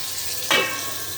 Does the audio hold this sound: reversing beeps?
no